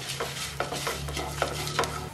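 Urad dal, dried red chillies and garlic roasting in a pan for coconut chutney: a soft steady sizzle with a spoon scraping and stirring against the pan at irregular intervals, close and fairly quiet.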